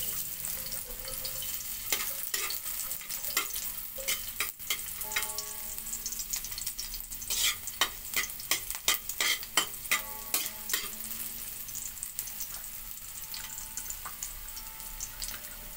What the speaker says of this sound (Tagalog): Nagpainit na tayo ng kawali na merong oil. Lagyan na natin ng bawang.